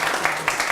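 A brief burst of audience clapping, a steady patter of many hands that is moderately loud and lasts under a second.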